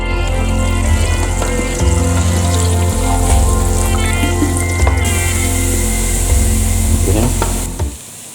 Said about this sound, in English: Add the dairy-free butter, the celery, and stir until it starts to soften.